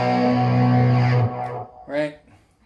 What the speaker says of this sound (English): Then the distortion kicks in.